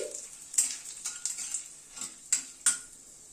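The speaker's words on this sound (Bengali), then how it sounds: "দুটো দারচিনি দুটো লবঙ্গ আর দুটো তেজপাতা দিলাম গ্যাসের ফ্লেমটাকে একদম কমিয়ে ফোড়নটাকে একটু ক্র্যাক করিয়ে নিচ্ছি" Cinnamon, cloves and bay leaves tempering in oil over a very low gas flame, a faint soft sizzle punctuated by several sharp spoon scrapes and clinks against the pan.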